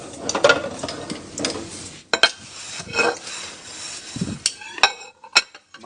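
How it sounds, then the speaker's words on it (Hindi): Dishes, pots and pans clatter and clink while being washed at home, with irregular bursts of metallic knocks and scraping close to the microphone. "भाई बहुत बर्तन है"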